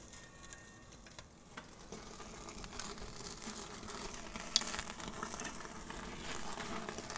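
Thin Secreto Iberico pork steak searing on a grill as dripping grease flares, giving a steady close crackling sizzle with scattered pops and no talking.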